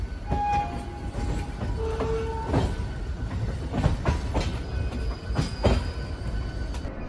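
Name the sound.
local train departing from Howrah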